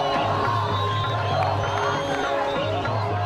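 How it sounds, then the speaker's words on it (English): A large crowd shouting, cheering and whooping in Cairo, Egypt, a dense, steady roar of many voices with no pauses, close and loud throughout. "the crowds are shouting and screaming"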